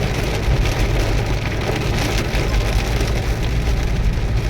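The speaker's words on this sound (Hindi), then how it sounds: "बहुत तेज बारिश है" Heavy rain pounds steadily on a car roof, a dense, loud, continuous patter with low drumming underneath and no voices, near Chopta on the Tungnath route.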